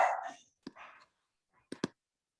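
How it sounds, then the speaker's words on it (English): A few short barks from pet dogs at home, a longer bark or whine at the start followed by two quick sharp barks, moderately close with silence between. "I have a feeling my dogs are going to start."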